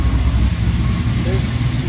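A twin-turbo Camaro with an aluminum motor runs on a dyno, giving a steady, close, loud low engine rumble that holds without a break.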